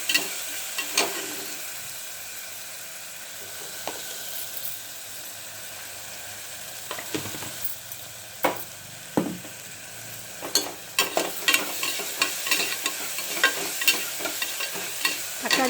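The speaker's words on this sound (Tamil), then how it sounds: "இப்போ தக்காளி ஓரளவுக்கு வதங்கியாச்சு" Tomatoes softening in a pan with rock salt, a low quiet sizzle under repeated sharp spoon scrapes and knocks that grow more frequent toward the end, no talking.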